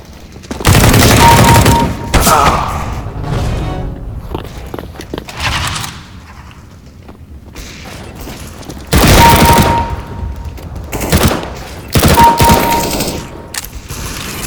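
Counter-Strike: Global Offensive gunfire comes in loud, close bursts of rapid automatic shots, separated by quieter stretches with faint footsteps and thuds.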